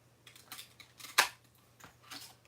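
Small snips of scissors cutting a little flower shape from pale paper, a handful of short crisp cuts spaced irregularly, close and quiet, one snip sharper than the rest.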